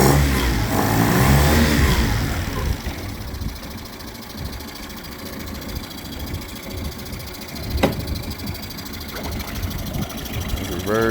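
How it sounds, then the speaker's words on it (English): A 1999 Mercury 9.9hp long-shaft four-stroke outboard motor running and being throttled, a steady close engine drone that swells at the start and then settles into an even idle, with people talking over it. "give it some throttle"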